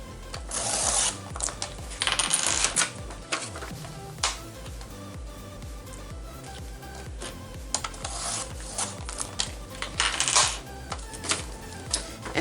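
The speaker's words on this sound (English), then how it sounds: "I'm just gonna cut around the edges." Scissors snipping around the edges of a scrap paper sheet for a collage journal pocket, a busy run of close rasping cuts and rustles with brief clinks, moderately loud and continuous.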